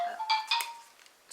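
A phone chimes a short message notification, a few bright ringing tones in quick succession, close and clear, then fading into quiet.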